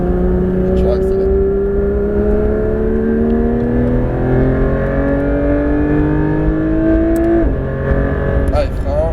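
A Porsche 991 GT3 RS pulls hard on the Dijon-Prenois circuit, its engine note climbing steadily in pitch through a long gear before a sharp shift, loud and close from inside the car.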